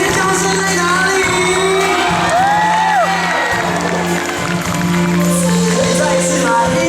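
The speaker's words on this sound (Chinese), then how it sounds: "掌声要还有尖叫声在哪里？" A concert crowd at a Taiwanese-language singer's show applauds, cheers and screams steadily, a dense wash of clapping and high shouts with a sustained tone underneath and no talk.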